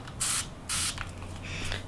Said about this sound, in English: So I'm going to spray it on the cloth.